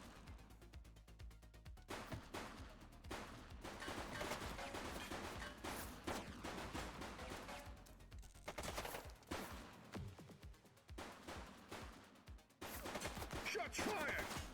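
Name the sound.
gunfire in the video game The Precinct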